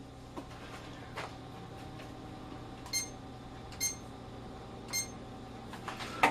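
A kitchen timer is reset while a deep dish pizza bakes: three short, high electronic beeps at steady intervals, faint against a low room hum, with a few soft clicks and handling noises around them.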